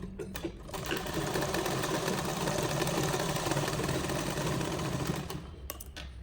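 Sewing machine stitching half-inch darts on a blouse, running in one steady, fast mechanical whir for about four seconds, with brief clicks and handling noises at the start and end.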